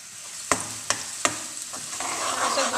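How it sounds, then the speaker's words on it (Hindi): Garlic sizzling in hot oil already used for frying onions, with black cardamom, star anise and cinnamon pieces, three sharp stirring clacks early on, then a steady, rising frying hiss. "तो अब मैं लहसुन को थोड़ा फ्राई कर लेती हूँ।"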